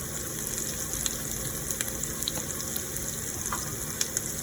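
Vegetables fry in a pan with spice mix added, a steady close sizzle with a few faint stirring clicks and no talk.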